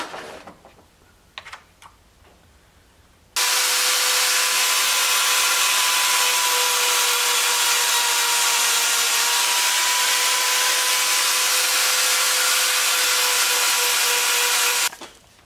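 File strokes sharpening the cutters of a chainsaw chain, a few light scrapes followed by a long, loud, continuous rasping hiss that ends abruptly, close and alone.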